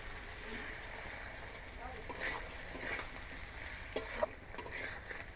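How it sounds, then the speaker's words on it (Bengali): Potatoes frying with ginger-cumin paste and spices in a pan give a soft steady sizzle, with occasional faint spatula scrapes and stirring rustles, fairly quiet throughout. "সব কিছু একটু আলুর সাথে মশলার সাথে একটু কষিয়ে নেব।"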